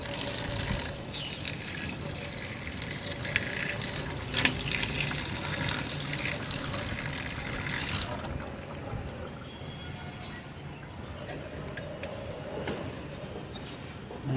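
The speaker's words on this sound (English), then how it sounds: "Let's add some water and see if it is going to get filtered or not." Water pours and splashes steadily into a container for about eight seconds, then drops to a quieter trickle and hiss.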